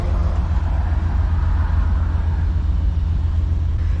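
A Ford Power Stroke IDI diesel engine runs steadily nearby with a low, continuous rumbling drone and no voices over it.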